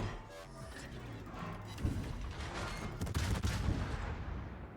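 Naval gunfire in World of Warships from the Tier XI German cruiser Clausewitz firing HE shells, a cluster of deep booming salvos and crashing thuds rolling over a rumbling ship background.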